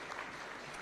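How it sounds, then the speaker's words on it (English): Applause from a ceremony audience at a taxpayers' awards event in State House, a brief steady patter of many hands clapping at moderate distance with no voices over it. "A round of applause, please."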